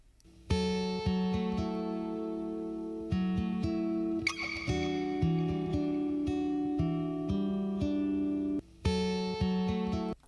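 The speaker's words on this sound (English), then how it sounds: "I have added a guitar track" A guitar track plays in an MPC3 music production project, with sustained harmonic chords and notes in phrases separated by short gaps, clean and upfront with no talk.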